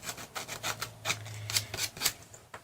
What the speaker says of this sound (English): I just take a fine grit sandpaper, and then I just sand all around it.